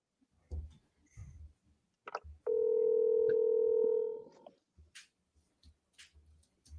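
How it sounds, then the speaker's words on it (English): A phone line produces a steady dial tone for about two seconds, preceded by a few light clicks and followed by scattered soft taps, heard close with no talking. "So we're going to double dial."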